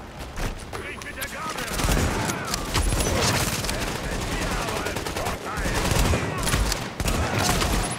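Rapid gunfire and turret shots ring out in The Division video game, dense bursts of automatic fire and sharp cracks packed tightly over several seconds, loud and continuous with brief dips, while a player talks over them.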